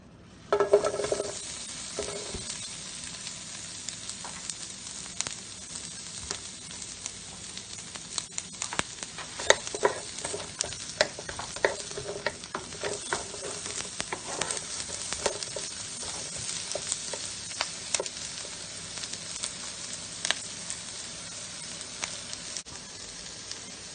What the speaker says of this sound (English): Now I'm going to add in 2 yellow onions that I've diced